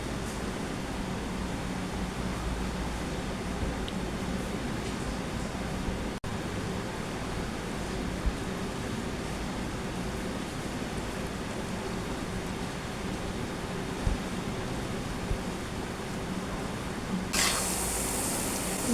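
Pieces of vettu cake fry in hot oil in a wok, giving a continuous soft sizzling hiss throughout, with a sharper burst of spitting near the end.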